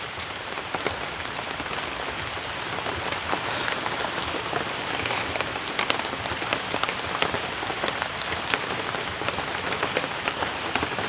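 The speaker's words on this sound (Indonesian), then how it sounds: "Ini hujan sudah mulai besar ini teman-teman." Heavy rain pours steadily through the Jalawastu forest, a dense, even hiss of drops striking leaves and ground, loud and close throughout with no voices.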